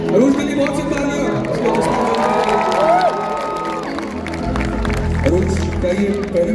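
A crowd at a live stage show at Expo 2020 Dubai cheers and claps for a 13-year-old girl, with whoops and shouts over a busy, loud hall, while talk carries on near the front.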